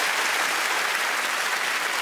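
A studio audience on a comedy panel game show claps steadily and loudly, a dense, even wash of applause running throughout with no voices standing out.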